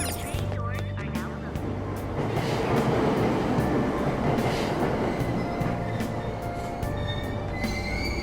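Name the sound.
train arriving at station in video game Persona 5 Royal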